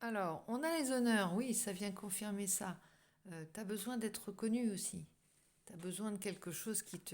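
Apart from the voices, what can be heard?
None of the usual background noises is heard.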